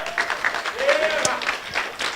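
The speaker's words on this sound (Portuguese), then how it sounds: "aplaudindo ao Senhor." A church congregation applauding during a worship service, steady moderate clapping from a crowd with a voice speaking over it.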